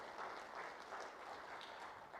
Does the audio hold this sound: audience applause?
yes